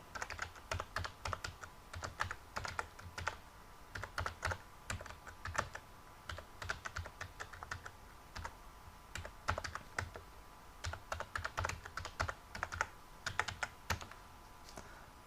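Fingers type an email address and password on a computer keyboard, a steady run of close, crisp key clicks in short bursts with brief pauses, no voices.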